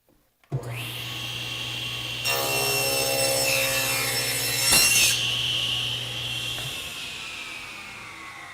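A table saw runs up with a steady motor hum, then its blade cuts through a wooden board fed with a Milescraft GrabberPRO adjustable push block. The cut lasts a few seconds and is loud and close, before the saw hums alone again.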